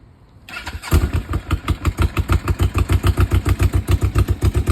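A motorcycle engine with newly adjusted mixture screws cranks and fires up after a short quiet moment, then settles into a loud, steady, close idle with an even pulsing rhythm.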